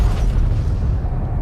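Deep, sustained rumbling booms from explosions in Fallout: New Vegas, loud and continuous with heavy low-end weight, no talking over them.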